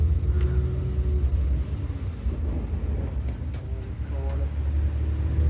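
Bus on an intercity run from Trivandrum to Kollur in Kerala, its engine rumbling low and steady throughout with road noise, and a voice talking briefly over it in the middle.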